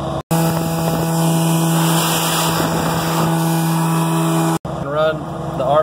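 HydraChem truck-mounted blower running steadily with a loud, continuous mechanical drone, cutting off abruptly near the end as voices and other sounds briefly follow.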